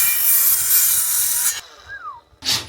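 Power sawing through 2x2 timber for framing a bathroom in a Mercedes 814D van conversion, a loud close whine that cuts off and restarts briefly after a pause.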